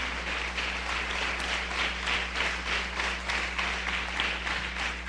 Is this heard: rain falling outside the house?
no